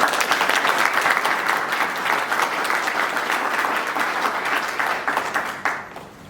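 Audience at a referendum mobilization rally bursts into dense, sustained applause, loud and continuous for about five seconds before tapering off near the end.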